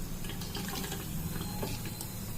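Mashed salty sea greens are rinsed by hand in water for laddoos, a faint steady sloshing and dripping with small splashes close by and no talk.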